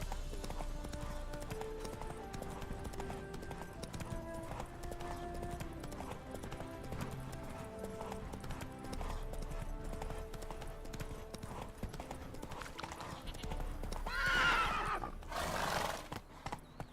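In The Witcher 3 game, a horse's hooves clip-clop at a steady trot over background music, then a loud whinny rises near the end.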